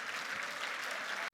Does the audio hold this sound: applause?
yes